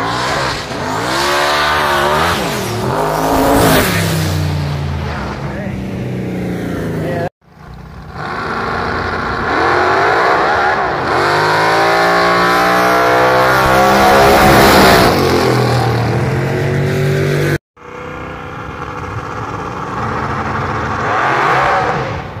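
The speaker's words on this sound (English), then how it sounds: "RX-7 rotary motor coming up." A Mazda RX-7 rotary-engine race car at a drag strip, revving loud and close in high buzzy bursts that rise and fall, with two sharp cutoffs between runs and some crowd chatter faintly underneath.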